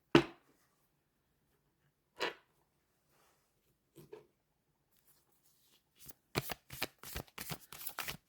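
Tarot cards being shuffled: a few isolated soft riffles early on, then a rapid run of crisp card snaps and flutters close by, quiet overall with no talking.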